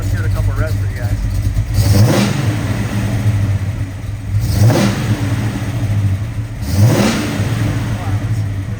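A 1971 Pontiac LeMans with a 400ci V8 muscle-car engine and M22 Hurst four-speed, restored, revving three times in sharp bursts over a steady rumbling idle, close and loud.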